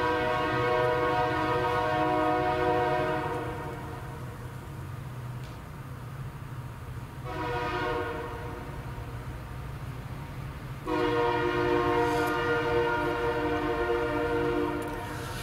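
A train rumbles past steadily while its horn sounds three long, loud, droning blasts separated by short gaps.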